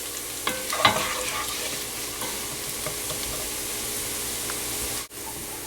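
Ginger, garlic and whole masalas sizzling and browning in a pot for a goat curry, a steady close frying hiss with a few scraping stirs near the start.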